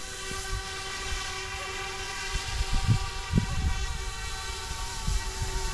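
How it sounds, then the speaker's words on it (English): A small F06 EC135 RC helicopter runs with a steady high-pitched tail-motor whine and rotor hum, broken by a few soft bumps and clicks. "The tail motor is a lot quieter than the F09s. It's get a little bit of whine"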